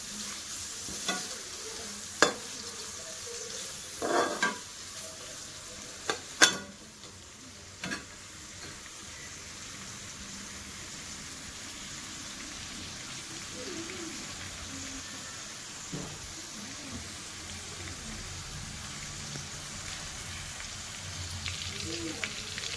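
Dal is stirred in a pan, with a soft sizzle underneath and a few sharp spoon scrapes and clinks against the pan early on, then a quieter steady simmer.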